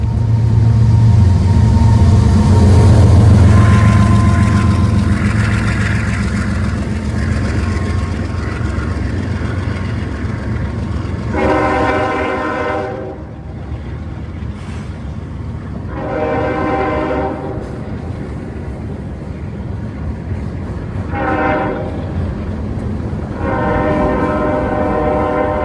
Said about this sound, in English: to catch the last eastbound freight train headed out of Asheville